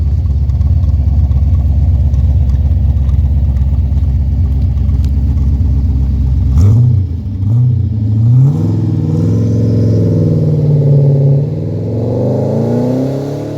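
A 1996 HSV GTSR Commodore tribute built from a VR GTS, its engine idling with a deep, loud, close burble before revving and pulling away, the tone rising and shifting as it drives off.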